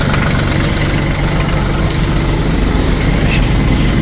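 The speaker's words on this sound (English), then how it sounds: "We're getting in the tractor." A tractor engine idles at a snowy mountain homestead, a loud, steady low rumble running unbroken throughout with no talk.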